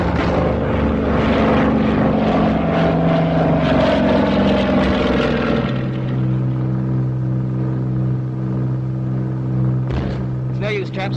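Propeller aircraft engine with a loud droning roar, then the pitch shifts and settles into a steadier lower hum, close and constant throughout.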